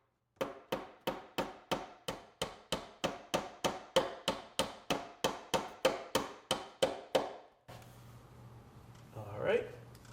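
Hammer blows drive half-inch wooden-rated cable staples into wood to fasten a range hood power cord, about twenty sharp, evenly spaced strikes at a steady brisk rhythm, close and loud, followed by a quieter stretch with faint handling noise.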